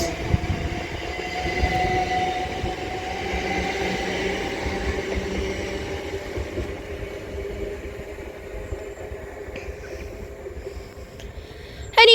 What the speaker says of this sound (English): is that double-legged Great Western Railway Class 387 departs Didcot Parkway now, starting here for London Paddington